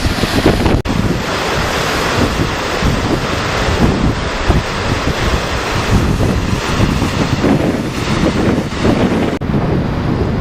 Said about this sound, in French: Le Lez a un bon débit.